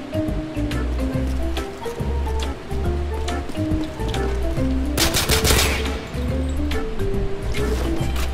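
Shots in a sniper-versus-sniper video game, repeated gunfire over a steady backing track, with one louder, harsher burst cutting through midway.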